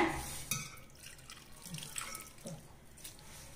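Water sprinkled a little at a time into ragi murukku dough being kneaded by hand, giving soft splashes and drips at close range with a faint tap-like trickle and no talking.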